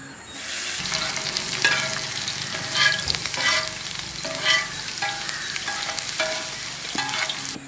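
Steady crackling sizzle of chopped ginger frying in hot oil, with bursts of stirring and scraping from a utensil, close and continuous.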